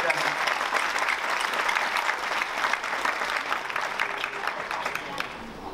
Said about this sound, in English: Another, just in a quick round of applause for Abhishek,